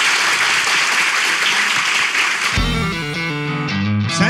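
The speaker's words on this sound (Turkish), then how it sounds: "Alkışlarla!" A studio audience on a Turkish relationship-quiz show claps loudly and densely for a few seconds, then music cuts in as the applause ends.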